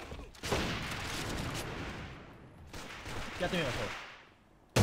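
An assault rifle fires in the video game AVA, with two long, dense bursts of rapid shots separated by a short gap and a sharp shot at the end, under a voice talking.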